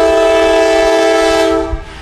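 A loud, sustained freight train horn blares close by, then cuts off as the rumble and clatter of passing railcars continue, in Central Florida.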